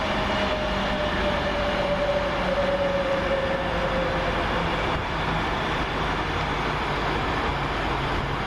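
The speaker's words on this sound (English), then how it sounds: "390-141 arrives with the 1450 Avanti West Coast service from London Euston to Manchester Piccadilly via Stoke-on-Trent." Class 390 Avanti West Coast electric train arriving at Milton Keynes Central station, heard as a steady, loud rolling rumble with a brief high whine early on and continuous track noise.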